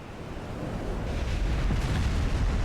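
An armor-piercing shell salvo in the naval battle game Ultimate Admiral Dreadnoughts, 1920 campaign: a continuous heavy roar with deep rumbling booms swelling slightly toward the end, dense and loud with no distinct gaps, no voices.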